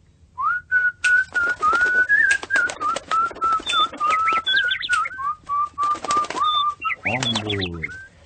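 A pet bird whistles a long, wavering melodic line in repeated short phrases, close and clear, ending in a low rippling coo.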